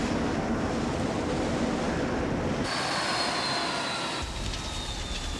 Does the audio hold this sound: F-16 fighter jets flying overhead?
yes